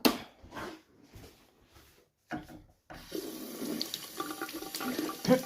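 Water running from a kitchen tap in an apartment to wet a cleaning cloth, starting in short bursts with pauses, then flowing steadily with splashing and rubbing, close by.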